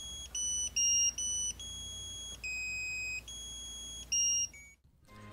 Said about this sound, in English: As soon as the timer counts down to zero, you'll hear a melody or vibration if selected